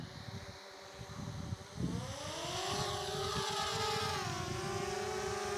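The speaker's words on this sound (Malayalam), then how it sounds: "നമുക്കിത് ടേക്ക് ഓഫ് ചെയ്യാം. ഇപ്പോൾ ഞാൻ പറഞ്ഞ പോലെ തന്നെ അതിൻ്റെ മോട്ടർ സ്റ്റാർട്ട് ചെയ്യാണ്." A DJI Spark drone's motors spin up for takeoff, a faint whir rising into a steady, sustained buzzing hum that holds level as it lifts off, with no voices over it.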